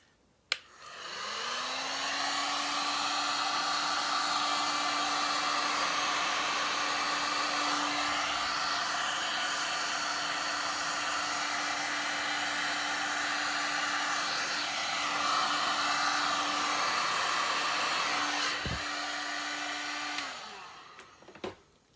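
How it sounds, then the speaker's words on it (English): A heat gun blows steadily over poured resin in a wooden box, a loud close continuous whooshing drone with a fan whine that lasts about twenty seconds before clicking off, with no voices. "I'm just going to help it so that I'm not putting the heat gun on bare wood"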